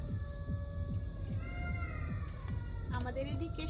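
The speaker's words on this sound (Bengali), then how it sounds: "শুনো, সেই দূরে শিয়াল ডাকছে।" Jackals howling far off after dusk in a rural village, with faint rising and falling wails carried over a steady low throbbing hum.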